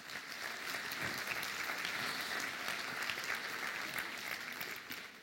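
An audience at a science talk event applauds steadily, a dense even wash of clapping that holds at the same level throughout, with no voices above it.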